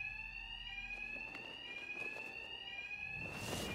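An electronic alarm in the video game Batman Arkham Knight rings continuously as a piercing, steady tone over low background rumble, with faint thuds beneath and a swell of noise at the end.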